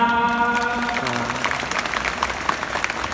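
Applause from an audience gathered at a Thai Buddhist ceremony honouring monks who passed the ninth-level Pali exams, a scattered patter of clapping that rises under a voice addressing the crowd over a loudspeaker.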